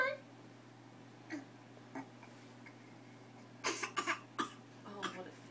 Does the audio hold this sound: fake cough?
yes